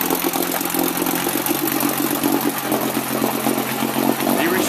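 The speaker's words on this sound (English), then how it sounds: "This engine sat idle for at least a decade before Fran" Restored 1956 Buick Century engine idling steadily, a continuous mid-pitched rumble with a faint even pulse, fairly close and alone without voices.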